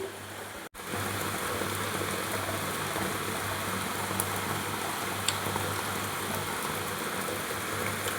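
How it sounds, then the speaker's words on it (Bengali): Heavy rain pours steadily outside during home cooking, a dense, constant wash of noise that runs unbroken and fairly loud with only a brief dip near the start; no one speaks. "ভালোই জোরে বৃষ্টিটা হচ্ছে।"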